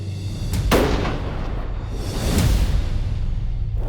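A rifle fired at a bull elk during a high-altitude hunt, one loud sharp crack followed by a long rolling echo and a second boom of reverberation across open terrain, no talk.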